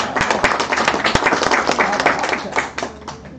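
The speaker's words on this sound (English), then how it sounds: "Let's give Tim a hand for doing an awesome job" Audience clapping for a presenter at a live-streamed event, a lively burst of many hands lasting a few seconds, with some voices mixed in.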